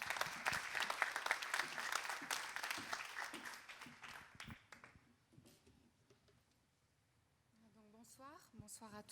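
Audience applause at a public meeting, a burst of clapping that is loud at first and fades over several seconds before a voice begins speaking.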